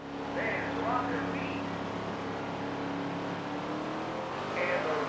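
Race car engines drone and rev together at the start of a race in the SRX Superstar Racing Experience video game, a dense, steady roar with a commentator talking over it.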